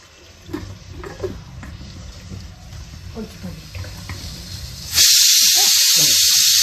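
A pressure cooker whistle bursts into a loud, steady hiss of escaping steam in a kitchen where South Indian dishes such as sambar are being cooked, following quieter background sounds.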